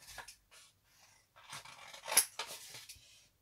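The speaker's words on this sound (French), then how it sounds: "Donc, on coupe à l'intersection." Scissors snip through paper where two pieces intersect, a series of quiet, close cuts in short bursts with a brief metallic click in the middle.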